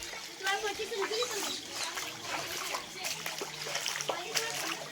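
Flood water from an overflowing village pond splashing and trickling as it pours out after heavy flooding, soft and continuous beneath a person talking.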